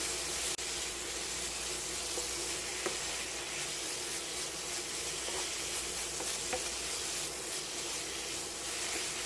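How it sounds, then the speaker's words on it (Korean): Blanched burdock is stir-fried briefly in a pan, making a quiet, steady sizzle with faint scattered clicks from stirring, close and uninterrupted, with no voices. "데쳐낸 거니까 살짝 이렇게 살짝만 볶아주세요."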